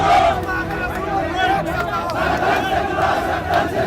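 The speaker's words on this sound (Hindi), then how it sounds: "मिनट भर के अंदर ऐसे नारे लगने लगे।" A large street crowd in a city gathering around a police station chants slogans, loud massed voices shouting together in rising and falling waves over constant crowd babble.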